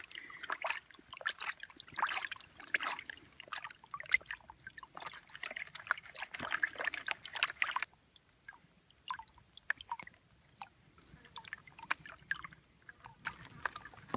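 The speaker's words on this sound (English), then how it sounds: "I've panned the majority of the overburden off, and now we're left with the last bit, and let's see if there's any gold in this creek" Water sloshes and trickles in a gold pan as the last creek gravel is worked, a quiet run of splashes and drips that pauses briefly midway and then resumes.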